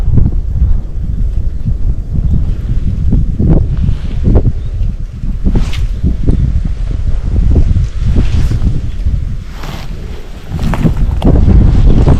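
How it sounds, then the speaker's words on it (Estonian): Strong wind roars and buffets the microphone continuously while fly fishing, with rumbling low gusts that swell and ease throughout. "Päris tugev tuul on."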